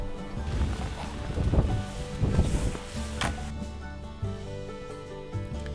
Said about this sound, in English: So let's try out the electric snow thrower,